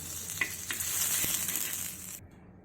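Butter sizzles in a frying pan while bread omelette is being made, a soft steady hiss with a few light clinks, and the sound stops abruptly near the end.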